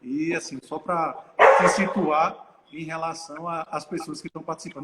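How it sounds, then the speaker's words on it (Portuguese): A household dog barks indoors in a short, loud burst that overlaps a person speaking Portuguese almost continuously, with the voice staying in front throughout. "Isso foi meu cachorro que latiu"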